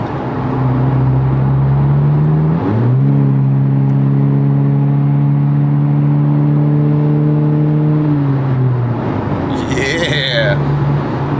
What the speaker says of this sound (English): That's just the intake.